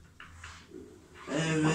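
Pet pigeons in a cage give soft, low coos, a couple of faint calls early and then a fuller, louder cooing burst near the end, close by with no talk over it.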